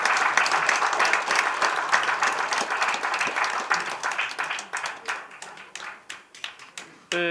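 Dense applause from a forum audience welcoming Dr. Michael Shin to the stage at the Korea Christian Building hall, steady and loud before thinning into scattered claps near the end.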